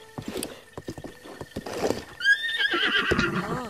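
Horse in Zelda Breath of the Wild giving a bright, wavering whinny near the end, after a run of soft clip-clop hoofbeats with brief murmured talk.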